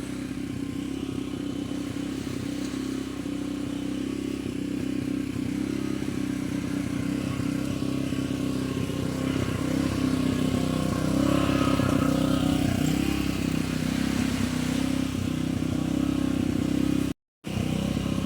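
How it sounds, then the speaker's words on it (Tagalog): A generator runs steadily at a beach camp in Barangay Papaya, Nasugbu, Batangas, a loud, even motor drone with a rough mechanical clatter that holds throughout, briefly cutting out near the end. "andar pa rin ang generator"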